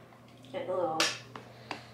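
A baby claps hands on Christmas morning, a few soft, spaced claps following a brief stretch of a voice talking.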